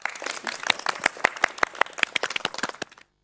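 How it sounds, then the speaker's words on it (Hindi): A studio audience on a Hindi television comedy applauds with a crisp, dense patter of many hands for about three seconds before cutting off abruptly. "तालियां।"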